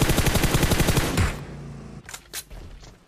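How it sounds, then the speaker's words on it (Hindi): Automatic gunfire in PUBG Mobile Lite, a loud, close rapid burst of shots for about a second, followed by a couple of fainter distant reports. "फायरिंग देखो देखो"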